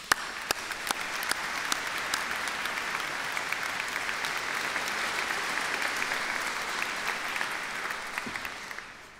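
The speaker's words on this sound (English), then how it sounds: "Give yourselves a big round of applause." A graduation ceremony crowd applauds continuously, a dense wash of clapping that holds steady for several seconds before tapering off at the end.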